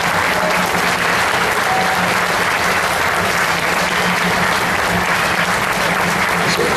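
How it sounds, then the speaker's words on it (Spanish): A large festival crowd in an open public square applauds a performer with sustained, loud, dense clapping that stays even throughout, a continuous roar of hands with no talk over it. "quiero pedir un aplauso para el señor"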